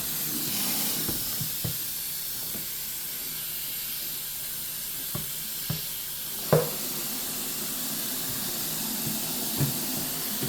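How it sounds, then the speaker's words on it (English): A spray can or bottle hisses steadily and fairly loudly through the whole stretch, broken by a few sharp clicks and knocks, with no talking. "let's just spray everything and then we'll call it a day"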